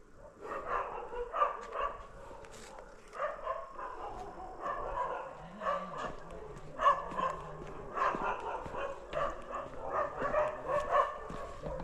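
Several dogs bark repeatedly at night near a cremation ground, a run of steady barks and yips at moderate distance, with faint voices in the background.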